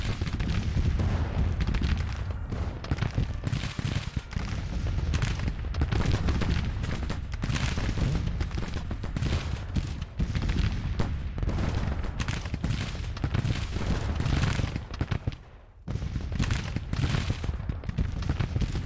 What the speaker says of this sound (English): I see the guns firing for 3 batteries at least